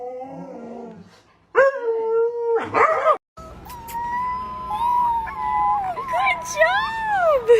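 A puppy howls in long, wavering, rising and falling cries close by, mixed with a person's howling imitation and brief talk.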